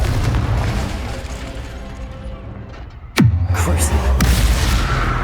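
Confringo spell blast in the Hogwarts Legacy video game: one loud, sharp booming burst partway through, then a sustained low rumbling tail, following a steady bed of game sound.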